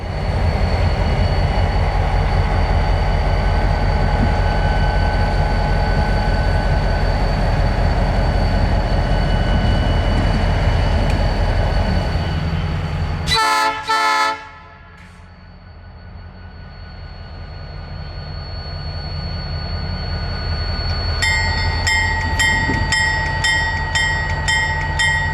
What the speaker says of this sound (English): the Conrad Yelvington GP30 was able to back onto the rockhoppers